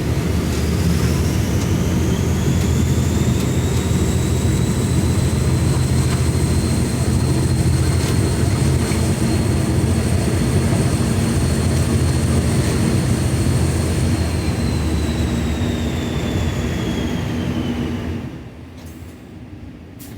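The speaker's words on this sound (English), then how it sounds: "we are treated to the sound of an English Electric 12 CSVT engine working hard" An English Electric 12 CSVT diesel locomotive engine working hard on the Severn Valley Railway, a loud, steady, droning roar with a sustained whine, close by and alone, fading sharply near the end.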